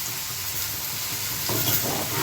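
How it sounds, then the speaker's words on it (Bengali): Potatoes frying in a pan for a beef bhutwa dish while being stirred, a loud continuous sizzle with scraping stir movements that grow busier toward the end. "ভালো করে এটা মিক্স করে নেব যাতে এখানে আলুগুলো ভালো করে সুন্দর একটা কালার আসে।"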